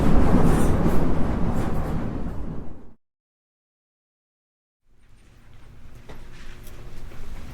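A London Underground train at a station platform on a service terminating at Redbridge, with a loud, close rumble for about three seconds that cuts abruptly to silence before a quieter, steady rumble returns.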